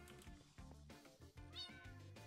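Cats in the Minecraft video game meow in a quick run of short, close mews and chirps with no talking over them.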